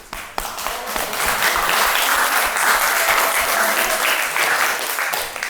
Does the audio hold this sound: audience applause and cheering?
yes